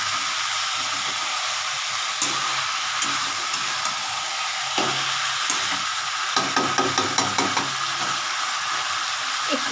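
Tomato and green chillies fry for a Bengali chicken curry, a loud, close hiss of sizzling oil with scattered scraping stirs and clinks growing busier toward the end.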